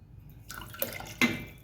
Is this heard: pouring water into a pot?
yes